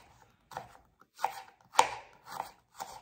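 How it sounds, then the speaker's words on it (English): A knife slicing a carrot diagonally on a cutting board: five or six distinct, close chops spaced about half a second apart, each a crisp thunk, with no one talking. "This is how I slice the carrot."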